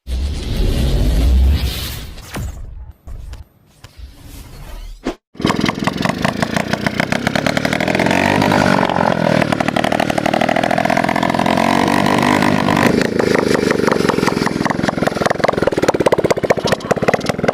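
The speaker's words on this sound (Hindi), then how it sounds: "जो अपना इंजन है वो कितना ज्यादा पावरफुल है, यानी कि गाइस यार सच में काफी ज्यादा आवाज कर रहा है" A homemade engine built for a rocket bike roars loudly and continuously after a few seconds of clattering, sputtering starts and a brief cutout, settling into a harsh, rapid, buzzing run close by.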